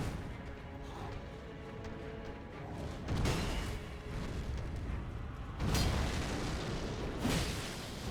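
Explosion attacks in the video game Elden Ring, several booming blasts bursting out over a rumbling game soundscape, the loudest hits landing around the middle and near the end.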